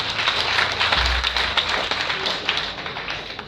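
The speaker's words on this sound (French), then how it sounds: "Applaudissez pour vous-même." An audience at a certificate ceremony for more than 500 young people claps steadily, producing a dense, continuous patter of applause from many hands with no pauses.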